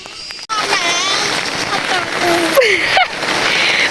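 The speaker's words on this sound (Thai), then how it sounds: "ฝนตกหนักแล้วค่ะ" Heavy rain pours down in a dense, steady hiss with splashes, while birds chirp and chicks peep nearby.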